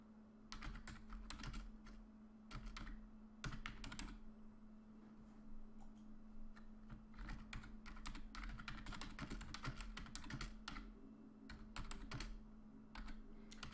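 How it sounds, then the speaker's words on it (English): Steady typing on a computer keyboard while writing a short message, with rapid clicking bursts and brief pauses running throughout over a constant low hum. "let me just type a quick message on SlideShare"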